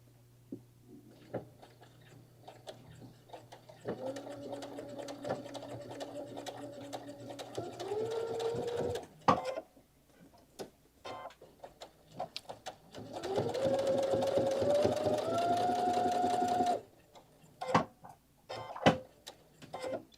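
A sewing machine runs in two bursts of rapid mechanical stitching, including a back stitch, its motor whine rising in pitch, separated by pauses with small clicks and handling sounds nearby.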